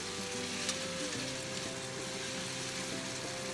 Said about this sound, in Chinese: 就把刚才我们腌好的鸡倒进去